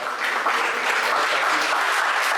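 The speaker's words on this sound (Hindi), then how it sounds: "उनको सबके लिए एक बार जोरदार तालियों से मैं चाहूँगा कि सभागार जितने लोग बैठे हैं उससे ज़्यादा तालियों की आवाज़" A packed auditorium audience at a literary gathering claps loudly and steadily, a dense, even wash of applause that carries on without a break and with no voices on top.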